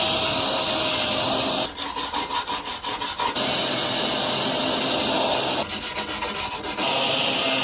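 Rust being scrubbed off exposed metal on a Chevy Express van: two bursts of rapid scraping strokes against a steady loud background hiss, close by, with no talk.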